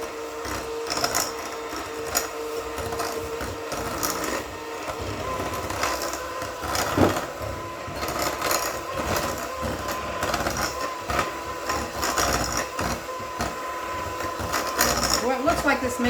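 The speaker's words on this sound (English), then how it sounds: "it looks like this mixer is working pretty good so far" Electric mixer creaming shortening, butter and brown sugar for old-fashioned pineapple cookies, a continuous mechanical whir with rattling, clunky texture running throughout, while people talk over it.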